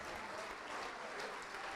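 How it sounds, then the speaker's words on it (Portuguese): Steady crowd clapping at an evangelical worship gathering, a continuous wash of applause filling the brief moment at moderate level with a faint murmur of voices underneath. "Vamos aplaudir mais ao nome do Senhor."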